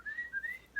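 A person whistles a short rising, wavering tone in imitation of a goblin's whistle, brief and soft, heard alone.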